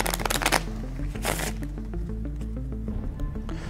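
A deck of cards is shuffled close up, with a quick riffling burst, a second riffle, then softer fluttering and tapping against background music.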